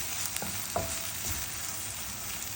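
An egg frying lightly in a pan for a vegetable and egg sandwich gives a steady, close sizzling hiss with a few soft clicks and taps of a utensil.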